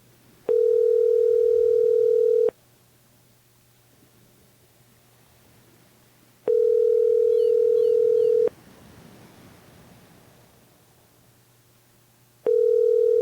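Ringback tone heard while calling a house phone, steady two-second buzzes repeating every six seconds with quiet line hiss in the gaps, loud and clear with no talking.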